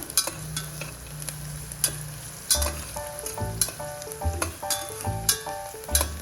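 Spice masala for stuffed brinjal sautéing in a hot pan: steady sizzle with repeated stirring scrapes and knocks of a utensil against the pan, close and clear, with no voices.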